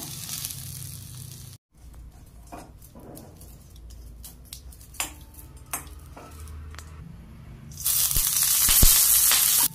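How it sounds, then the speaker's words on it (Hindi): Green chilies roasting in a hot pan give a soft, steady sizzle broken by scattered clinks and scrapes of a utensil, ending in a louder burst of frying hiss. "मिरची भाजून घेऊया।"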